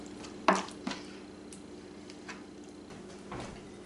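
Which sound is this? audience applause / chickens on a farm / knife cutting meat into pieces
knife cutting meat into pieces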